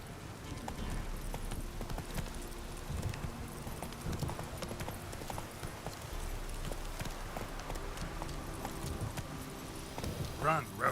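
Galloping hoofbeats from Roach, the horse in The Witcher 3, keep up a continuous clip-clop rhythm under faint background game noise, with a short burst of other sound at the end.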